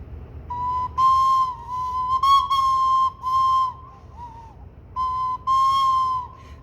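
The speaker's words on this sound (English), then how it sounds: "If I blow it harder, it might change pitch a little bit" A wooden stopped organ pipe, blown by mouth with varying force, gives a series of breathy, flute-like tones. Harder blowing makes the pitch rise and wobble slightly, in several bursts with short gaps between them.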